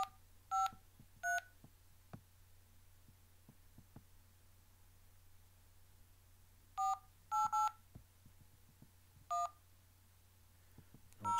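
Several bursts of touch-tone dialing from a Windows phone calling a bill payment line, short paired tones in clusters separated by pauses over a low steady hum.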